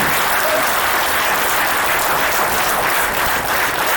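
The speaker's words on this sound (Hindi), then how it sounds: "उनके लिए भी सैल्यूट और जोर से तालियां" Loud applause from a crowd at a teaser launch event for the film Champion, steady dense clapping throughout.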